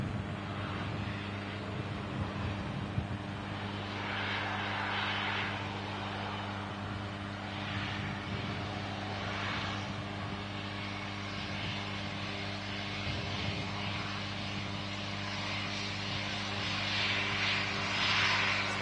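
An airplane with its nose gear down comes in to land over hills, a steady droning engine roar with broadband rumble and slowly swelling tones, continuous and moderately loud with no voices.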